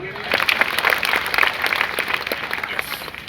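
Applause from a crowd gathered at a Chhatrapati Shivaji statue unveiling ceremony in a village, a steady patter of clapping lasting a few seconds at moderate loudness.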